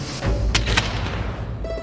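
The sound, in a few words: firecrackers bursting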